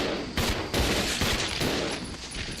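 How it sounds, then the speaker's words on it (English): Gunfire in Resident Evil 0, several loud, sharp shots cracking in quick succession during a fight, with rumbling echo between them. "That sounded like a headshot."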